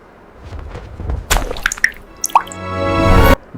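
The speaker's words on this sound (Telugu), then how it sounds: "సో ఇక్కడ ఏంటంటే వాటర్ స్ప్లాష్ అవుతున్నట్టుగా" Water splash sound effects for motion graphics: a few light drips, then a sharp splash and a longer liquid burst that cuts off abruptly, loud and close with no voices.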